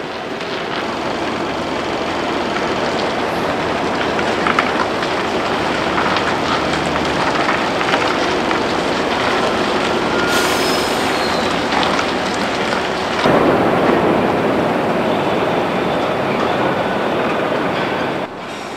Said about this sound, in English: He steers a winding route in reverse to bring his massive load within reach